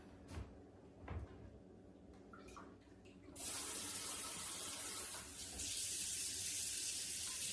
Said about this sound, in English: I'm just going to use cold water and rinse it off.